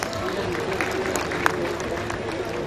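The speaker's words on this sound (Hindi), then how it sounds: "एक बार चेयरमैन सर के लिए जोरदार तालियां हो जाए" An audience at an engineering college function in Sikar gives the chairman a round of applause, a dense wash of clapping and crowd noise that runs steadily throughout with voices mixed in.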